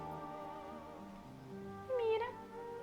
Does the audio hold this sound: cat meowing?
yes